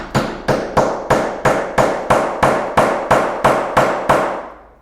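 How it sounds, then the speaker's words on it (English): Twelve sharp, evenly spaced hammer blows ring out close and loud, setting a metal snap through layers of duct tape on a homemade knife sheath, each strike decaying briefly before the next. "Then I'll take this hammer that came with my snap set"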